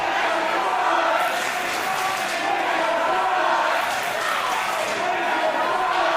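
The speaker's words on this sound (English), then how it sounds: "Crowd resolutely behind, if we're being honest, the hometown hero." Wrestling crowd at an independent IPW live event in Eastbourne roaring steadily behind its hometown hero, a dense, continuous wash of cheers and shouts filling the hall for several seconds without a break.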